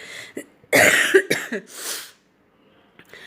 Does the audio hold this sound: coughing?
yes